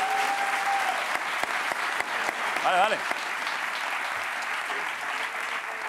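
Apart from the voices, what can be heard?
studio audience applause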